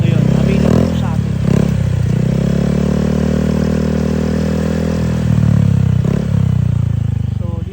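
A Honda Beat V3 scooter fitted with a plug-and-play KVIN pipe muffler revs loudly and close, its engine rising and holding a deep buzzing drone with a few blips between throttle pulls.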